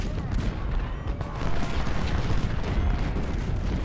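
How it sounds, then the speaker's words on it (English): 12-pounder cannon artillery in the Civil War strategy game Ultimate General: Civil War: a dense, continuous rumble of booming volleys and crackling gunfire, loud and sustained with no pauses. "Our 12-pounders have opened up fire."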